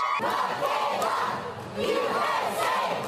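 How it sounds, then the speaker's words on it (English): Supporters of an Olympic gymnast returning home from Tokyo cheer in Arizona, a steady crowd roar with shouts and whoops that dips briefly midway before swelling again. "While Michaela Skinner's supporters were cheering in Arizona"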